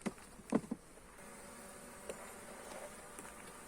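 Honeybees droning at an opened hive during a beekeeper's inspection in İzmir, a faint steady buzz lasting throughout, with a few brief knocks and bumps near the start.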